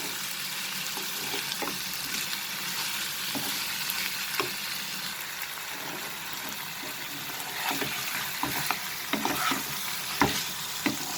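Chicken roast being stirred in a frying pan with a continuous sizzle, repeated spatula scrapes and taps scattered throughout, close and clear with no voices.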